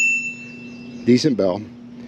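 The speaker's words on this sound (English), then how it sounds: "Decent bell" A bicycle bell on a Buzz 20-inch fat tire e-bike with 20 by 4 inch tires rings once and fades over a low hum, followed by a brief bit of talk.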